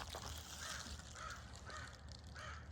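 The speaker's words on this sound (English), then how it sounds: "Hear that raven in the background here." A raven caws four times at an even pace somewhere in the background, fairly faint, over outdoor ambience on a cloudy, muggy day.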